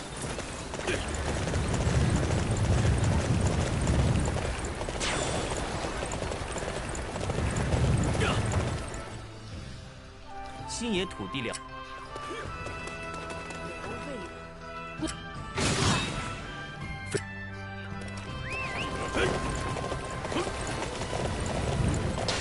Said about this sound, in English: Come here, you stupid horse.